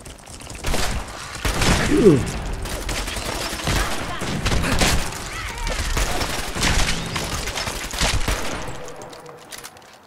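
Repeated gunfire from a weapon in Fallout 4, a steady run of bursts and shots with booming impacts that fills most of the stretch and falls quiet near the end, with a voice talking over it.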